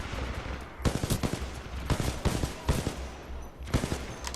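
Enemy gunfire in the Titanfall 2 campaign on Master difficulty: loud, close bursts of rapid automatic fire in several volleys separated by short pauses, alone with no voices.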